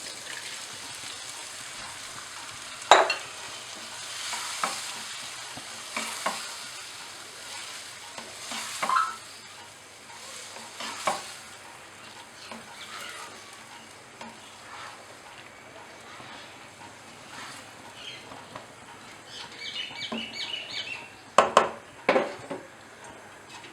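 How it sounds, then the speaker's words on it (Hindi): Masala Maggi noodles with vegetables and soy sauce being stirred and fried in a pan, a soft ongoing sizzle broken by spoon scrapes and clinks against the pan. "अब इसे अच्छे से मिक्स करके इसमें अब नूडल्स डाल दूँगी।"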